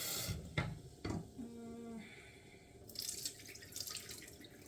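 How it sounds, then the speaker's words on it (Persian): Water poured into a pressure cooker in a home kitchen, with a few clanks from the pot and a gushing, splashing pour that comes in bursts, faint and close with no talk. "یکم آب میریزم"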